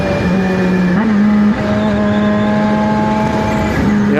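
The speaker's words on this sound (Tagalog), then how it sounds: "ganda na yung kanyang palo ng makina" A car engine revs steadily after its air filter has been cleaned, a loud close drone with a brief surge near the start and another at the end.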